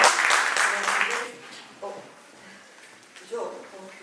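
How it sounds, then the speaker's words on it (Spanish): An audience at a library novel presentation applauds briefly, a short burst of clapping that fades after about a second and a half, followed by quiet room sound and murmured voices. "Un aplauso para Ana María."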